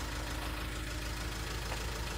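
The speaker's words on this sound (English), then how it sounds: "Why is engine running?" A motorhome engine idles steadily and continuously, a low rumbling drone with a faint knocking pulse, close and alone without talk.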